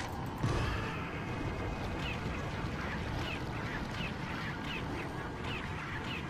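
A chicken in the video game Resident Evil 4 gives a series of faint, repeated clucking calls over a dense, steady background of game ambience.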